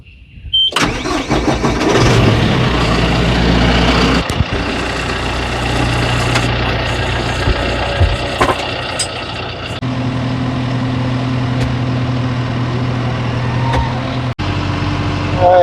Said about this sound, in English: I'm going to get the tractor started, move into position, and start grinding on the stump.